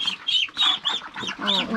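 Ducks, the larger ones, being moved into a new pen on a small farm, giving a run of repeated squawking quacks at close range, several calls overlapping in quick succession.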